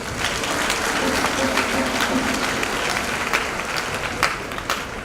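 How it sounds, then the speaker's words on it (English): Applause from graduates at a university Kente ceremony, a sustained dense wash of clapping with scattered louder claps and some crowd murmur. "give yourself a round of applause"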